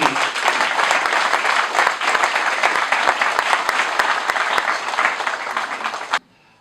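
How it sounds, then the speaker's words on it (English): Audience applause at a martial arts hall-of-fame induction ceremony, steady dense clapping from a sizable crowd for about six seconds, then cutting off abruptly into near silence. "Give a big round of applause to Mr. Keith Vitale."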